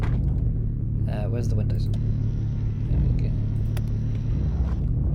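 Car engine in the video game Mon Bazou running with a steady low rumble throughout, close and continuous, while a person talks over it.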